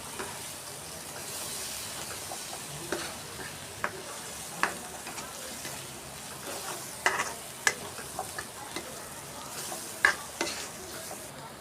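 Steady sizzling of crab masala with coconut in a frying pan, with repeated scraping and stirring clinks, growing busier toward the end, with no voices.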